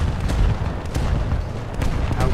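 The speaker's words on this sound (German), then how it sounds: "Aber ich kann mit der anderen Kanone schießen. Das ist eine 76er," A 76 mm naval cannon aboard the destroyer USS Wilkinson fires in War Thunder, heavy booms thudding in repeated bursts amid a dense rumble of battle noise, loud and close.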